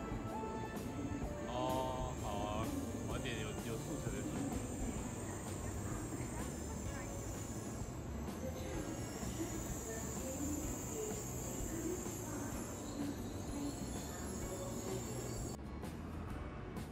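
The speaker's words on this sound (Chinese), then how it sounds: "想要在月台上拍新干线进出站" Tokaido Shinkansen bullet train pulling into and out of a platform between Kyoto and Shin-Osaka, a steady loud rumble with wheel and rail noise sustained throughout, a faint high squeal and some background speech.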